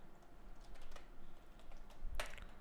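Code being typed on a computer keyboard: a sparse run of soft key clicks with one sharper keystroke near the end, close and fairly quiet over a low room hum.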